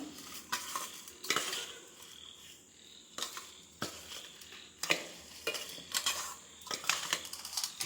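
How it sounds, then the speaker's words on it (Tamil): Black kavuni rice puttu being mixed with a cup of grated coconut, a utensil scraping and stirring in a steady close-up rhythm of soft repeated strokes, with no voices. "1 கப்பு தேங்காய், நல்லா கலந்துக்கலாம்."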